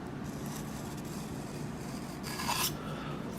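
A file rasps in light strokes along a steel broadhead blade during sharpening, faint and close, with one louder stroke near the end and no talk.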